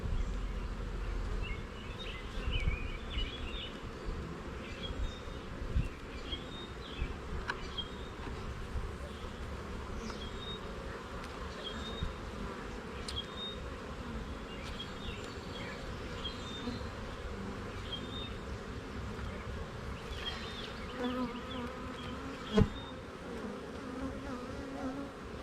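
A dense, steady hum of many honey bees buzzing around an open, queenless hive, close and continuous, with occasional clicks and knocks of frames being handled.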